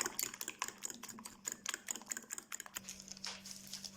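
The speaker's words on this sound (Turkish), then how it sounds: "Ve iyice çırpıyorum" A whisk beats a mixture for pizza-style bread toppings in a rapid series of light clicking taps against a bowl, fairly quiet and close, without talk.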